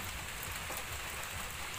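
Steady rain drumming on a roof over a newly roofed outdoor cooking area, a dense, even hiss with no gaps or voices.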